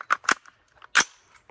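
Three sharp gunshots from a pistol or rifle with a super safety trigger, fired downrange at a range; two quick shots close together, a pause, then a third loud crack, followed by faint handling noises, with no talk.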